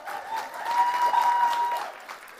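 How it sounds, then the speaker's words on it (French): An audience applauds at a youth event, a dense burst of clapping swelling and then tapering over a couple of seconds, with no voices. "Est-ce qu'on peut les applaudir, s'il vous plaît?"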